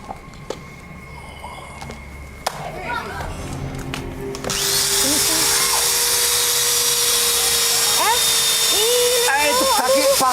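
An electric drill bores into a person's hand and thigh during a supernatural stunt performance, its loud steady whine starting midway and running continuously to the end while several voices talk over it.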